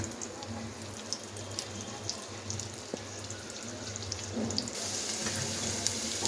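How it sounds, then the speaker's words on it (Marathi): Potatoes coated in masala fry in hot oil, giving a steady, close sizzling hiss with scattered small pops and crackles throughout. "चला आता मसाला आपला मस्त व्यवस्थित लागलेला आहे। आता आपण फ्राय करूया।"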